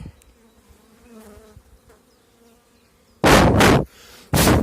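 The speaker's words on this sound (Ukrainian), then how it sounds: "ось на камеру бджола сіла" A honeybee beside an open beehive during spring expansion lands right on the camera, giving two loud, close, rough buzzing bursts after a quiet stretch of faint apiary background.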